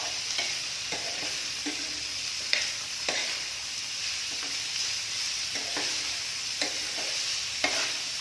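Sliced onions frying in a pan for a spicy chicken cake, stirred steadily: a constant close sizzle broken by regular scraping strokes of the spoon about once a second, with no voices.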